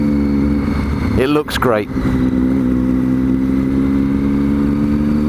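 A 2012 motorcycle engine runs close and loud with a steady, even drone, and someone talks over it.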